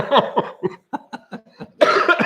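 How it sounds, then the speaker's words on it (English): A person coughing close up, a rapid series of about eight short harsh coughs, followed by a brief burst of voice at the end. "now I'm coughing"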